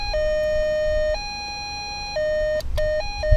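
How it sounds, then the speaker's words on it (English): A vehicle siren unit plays an ambulance siren, a loud electronic two-tone wail alternating between high and low pitches in regular steps, close and clear over faint background rumble. "It's got an ambulance."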